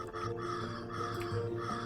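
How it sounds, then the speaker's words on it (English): A short, hoarse black vulture call in the video game Wingspan, a raspy croaking note repeated faintly over a low background hum. "that's a black vulture"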